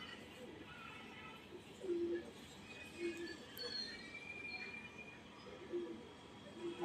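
A flock of twelve pet pigeons coos in short, low, repeated calls at a moderate distance over steady outdoor background noise, with a few faint flutters.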